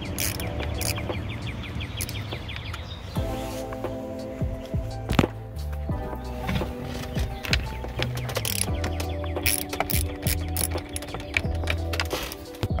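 Ratchet working 10mm bolts off a 2013-16 Dodge Dart steering column, clicking steadily in close repeated strokes, with occasional knocks and thunks of tools in between.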